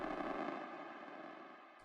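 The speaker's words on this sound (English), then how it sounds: "this one is white noise with a beat crush." A steady hiss of white noise, crunchy and grainy as if bit-crushed, holding at a constant level for about two seconds before cutting off.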